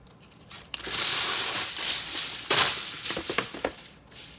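Aluminium foil crinkles and tears as it is pulled over a baking dish of summer squash, a close, steady rustle with a few sharper crackles and no talking.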